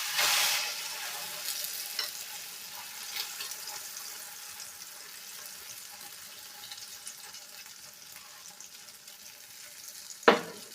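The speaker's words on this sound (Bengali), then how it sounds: "এইভাবে আমি ভেজে নেব।" A paratha coated in egg fries in a pan with a steady soft sizzle, a louder hiss at the start as it goes in and a sharp clatter near the end.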